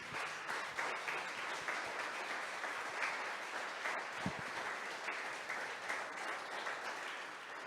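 A church congregation applauding, a dense, even wash of clapping that holds steady throughout, heard from a distance and fairly soft.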